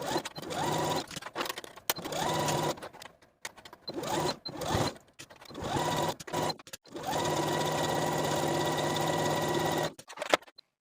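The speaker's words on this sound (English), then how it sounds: "sew both of your side seams from underarm to the bottom of the pants with a 3/8 inch seam allowance" A home sewing machine stitches the side seams of a jumpsuit, running from underarm to pant hem, in several close, steady whirring bursts with brief stops between them and one longer continuous run near the end.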